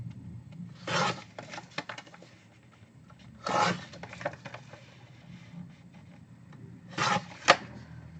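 A craft cutter slicing about an eighth of an inch off each edge of a shaker card: three short separate rasping strokes, close and moderately loud, with quiet pauses between them and no talk.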